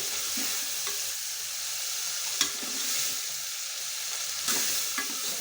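Onion and tomato with curry leaves sautéing in oil, a steady close sizzle with a few soft stirring scrapes and small taps, and no voices.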